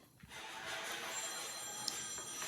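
A bell rings continuously for a couple of seconds, a bright sustained metallic ringing at moderate distance over low background noise.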